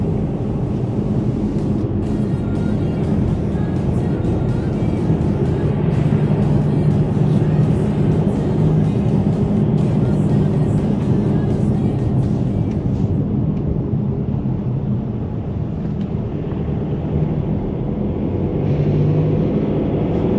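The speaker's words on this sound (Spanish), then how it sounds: "Se oye el ruido del motor de diésel" Steady low diesel engine drone from a Mercedes-Benz EQ hybrid, heard from inside the well-insulated cabin, a continuous muffled rumble with faint road noise throughout.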